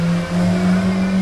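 An exotic car idles loudly nearby, a steady, deep engine drone with a strong low hum and little variation over a short moment.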